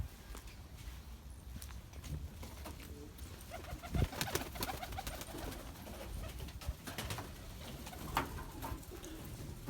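Posta breed pigeons coo softly inside a coop, with low murmuring calls, light shuffling, and occasional taps and wing flutters at a fairly quiet level.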